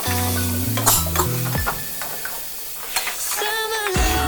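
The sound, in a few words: stirring chopped tomato frying in pan for prawn curry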